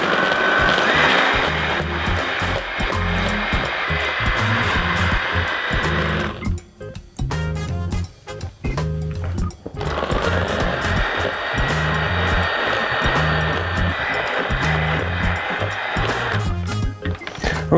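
An electric hand mixer beats a thick, sticky batter of beans and chocolate for vegan, gluten-free chocolate fondants, a steady loud motor whir that eases off briefly around the middle and again near the end, with no talking.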